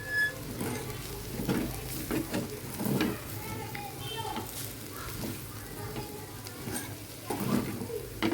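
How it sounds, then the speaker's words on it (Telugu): Potato fry with curry leaves being stirred in a pan gives a steady sizzle with soft scraping and patter of the spoon, running continuously under the room sound. "కరివేపాకు కూడా వేసేసి ఒక్కసారి ప్రాపర్గా కలిపేద్దామండి."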